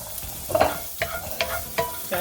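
Carrots hit a hot pan ahead of onions for fried cabbage and sausage, sizzling steadily while a utensil scrapes and stirs in four or five distinct strokes, close and clear with no talking.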